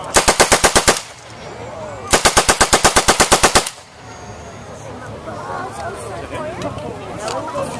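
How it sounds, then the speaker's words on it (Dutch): An MP40 submachine gun fires two loud, close bursts of rapid, evenly spaced shots, a short one and then a longer one. Outdoor crowd murmur follows the bursts. "We gaan nu schieten met de MP40, Smijzer."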